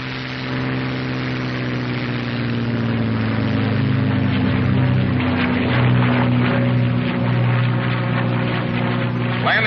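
North American P-51 Mustang fighter taking off, a loud steady piston-engine drone with strong low harmonic hum that rises slightly as power builds, heard continuously with no talk.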